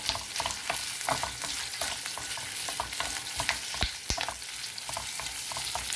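Chilies fry in a pan of oil for a brinjal chutney, giving a steady, close sizzle broken by frequent scraping stirs and small crackles, with no voices.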